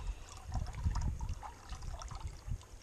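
Water is squeezed from a pouch through a Sawyer Squeeze filter into a container at a New Zealand creek hut, giving a close, soft, continuous gurgling and trickling with low bubbly surges; no one talks.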